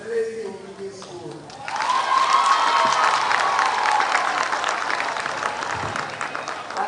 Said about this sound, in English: I just wanted them to clap for the head teacher.